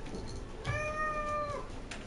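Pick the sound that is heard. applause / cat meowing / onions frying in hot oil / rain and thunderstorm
cat meowing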